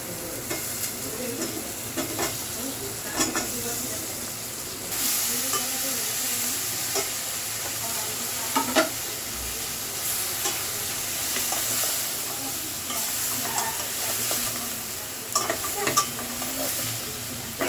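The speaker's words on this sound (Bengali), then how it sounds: "শুকনো মরিচের গুঁড়া, হলুদের গুঁড়া, লবণ পরিমাণ মতো। দিয়ে দিব ধুয়ে রাখা সজনা।" Washed drumstick (moringa) pieces frying in a pan with cumin, dried chili powder, turmeric and salt for a masoor dal dish, stirred often: a steady sizzle with frequent scraping and clattering stirs, fairly close.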